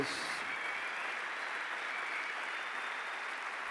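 A church congregation at a Christian conference applauds in praise, a steady, even wash of clapping from many hands that holds at moderate distance without pause.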